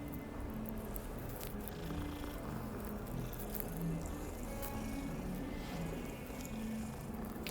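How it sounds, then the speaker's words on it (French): A cat purrs steadily while being petted in the Hogwarts Legacy video game, a soft continuous rumble heard alone and up close. "Tiens, un petit chat. Qu'est-ce qu'on peut y faire?"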